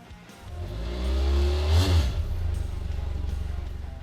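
A BMW F800 GS motorcycle engine revs up close and loud, a steady low rumble swelling to a peak and easing back into a pulsing idle.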